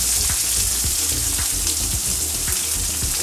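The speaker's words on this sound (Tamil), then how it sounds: "இது நல்லா ஃப்ரை ஆகட்டும்." Onions and lentils sizzle and crackle steadily in hot oil, with a constant frying hiss and occasional soft stirring knocks.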